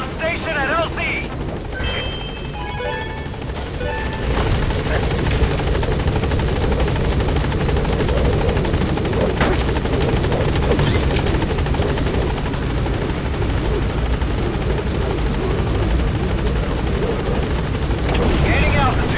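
Pequod helicopter in Metal Gear Solid V, its steady rotor drone loud and continuous throughout, with faint radio-style chatter early on.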